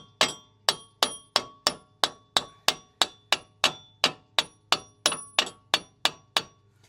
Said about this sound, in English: And then you can hit it with the hammer.